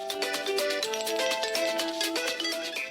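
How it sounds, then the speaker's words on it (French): Telephone ringing during a radio call-in show, a steady electronic warbling ring tone repeated in rapid pulses over a few seconds, loud and close with no speech. "Le téléphone sonne,"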